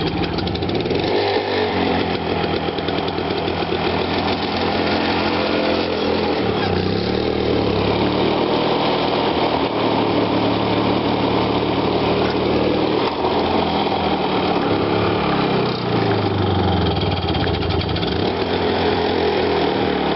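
Toro GTS lawn mower engine running steadily up close, a loud continuous buzzing drone whose pitch dips and recovers a few times as the throttle is worked low.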